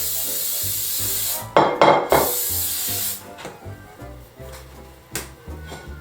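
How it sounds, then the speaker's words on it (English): Short hissing bursts of cooking spray into a large bowl, two quick sprays close together followed by a later one, with some rubbing and handling noise around them. "I'm going to spray it with cooking spray."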